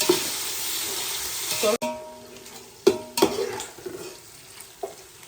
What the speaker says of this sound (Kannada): ಇವಾಗ ಕೊತ್ತಂಬರಿ, ಪುದೀನ ಸೊಪ್ಪು, ಕೊತ್ತಂಬರಿ ಸೊಪ್ಪು, ಹಸಿಮೆಣಸಿನ್ಕಾಯಿ ಇದು ಸ್ವಲ್ಪ ಬೇಯಿಸಿ.